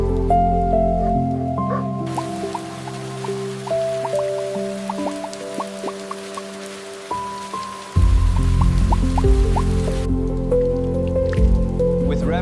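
Steady rain falls in a jungle village, pattering and dripping on surfaces as a dense continuous wash, with a soft musical tone underneath and a heavier surge of rain midway.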